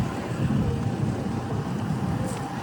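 Steady low rumble of a double-decker boat's engine at sea with broadband wind and water noise, continuous and fairly loud, no talking.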